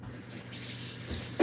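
Tap water runs steadily into a kitchen sink while hands are rinsed, a close, continuous hiss, ending in a brief louder splash.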